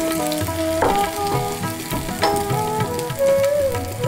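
Ground raw pea paste fries and sizzles in a pan while a spatula stirs it, with steady crackling, several scraping strokes and some tonal background sound mixed in, close and fairly loud.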